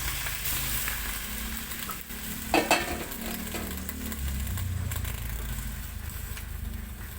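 Kangkong (water spinach) dropped into a pan of cooked onions for adobong kangkong, sizzling and frying steadily up close, with a brief burst of clattering stir strokes partway through.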